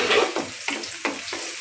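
Khichuri with meat being stirred in a cooking pot, a soft sizzle with several scraping stir strokes at a steady rhythm, close and moderately loud.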